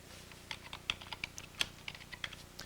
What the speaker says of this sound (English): I just type it in